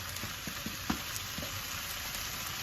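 Sea catfish stir-fries in a hot pan as fingerroot goes in, a steady close sizzle broken by light scrapes and knocks of stirring.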